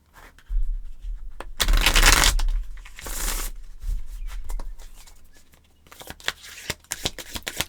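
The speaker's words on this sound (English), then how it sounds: "All right, I'm going to do one more shuffle." Tarot cards being riffled and shuffled in several bursts, a crisp rapid flutter close by, followed by lighter snaps and taps as the deck settles.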